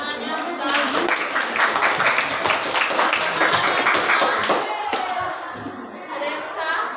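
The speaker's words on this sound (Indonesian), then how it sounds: "Tepuk tangannya besar." Classroom applause for a student, with a group of children clapping in a steady patter for several seconds that fades out, with chatter mixed in.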